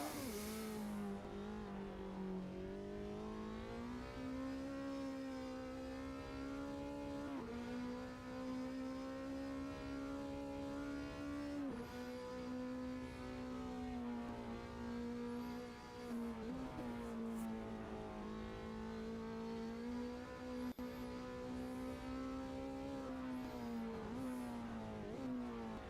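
Group 5 race car from the GTL racing game lapping Spa, its engine droning loud and steady throughout, pitch rising and dropping with gear changes and throttle lifts, with faint tire noise and no voices.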